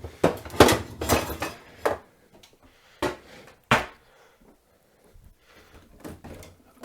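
Kitchen pans clattering and clanking as they are handled and moved around, several sharp metallic knocks in a loose cluster, then a pause and a couple more isolated clanks with quieter shuffling between.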